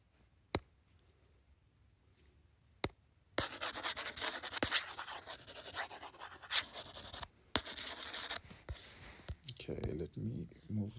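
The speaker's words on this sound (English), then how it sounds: "let me erase here" An eraser rubs across a drawn geometry diagram in rapid scrubbing strokes for several seconds after a few isolated taps, close and moderately loud, with no voice over it.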